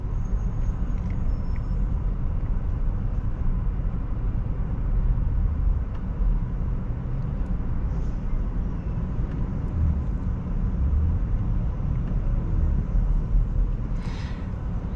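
A Lucid electric car cruising on a road, heard from inside as a steady, loud low rumble of tire and road noise that carries on evenly throughout, with no engine note and no voices.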